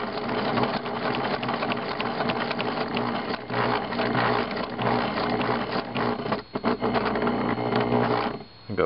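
Sewing machine stitching a fabric liner, running as a steady, close, rapid mechanical whir with a brief pause and restart near the end, no talking.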